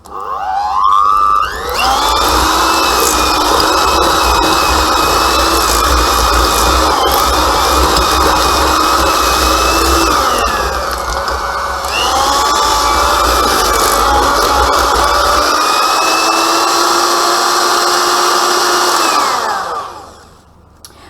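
An electric hand mixer beats butter for a Victoria sponge with a loud, steady motor whine that runs for about eighteen seconds. The whine briefly changes pitch midway, then winds down at the end.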